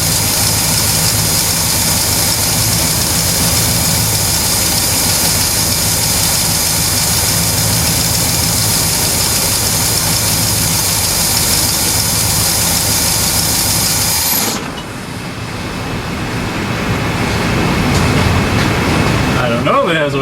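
A 1967 Pontiac GTO engine, newly fuelled and sparked, idles loud and close with a steady rumbling drone. About fifteen seconds in it cuts off abruptly, then a softer rising mechanical hum returns.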